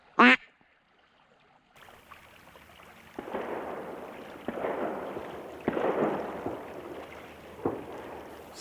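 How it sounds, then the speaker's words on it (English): Several distant shotgun blasts from duck hunters echo across the Colorado River in late season, four muffled booms spaced a second or two apart with long rolling tails, preceded by a single sharp duck quack near the start. "Somebody's getting some shooting in. My neighbors are getting some shooting in."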